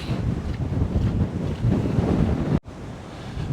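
Gusty wind from Storm Darragh roars steadily outdoors near trees, buffeting the microphone in a loud continuous rush that cuts out abruptly for a moment before resuming.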